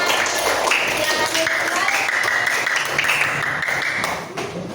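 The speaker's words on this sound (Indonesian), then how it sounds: "Berikan aplaus untuk kelompok 1. Tepuk tangan." Group 1 in a fourth-grade classroom gets applause, with sustained, fairly loud clapping and scattered taps running for several seconds, mixed with children's voices and fading slightly near the end.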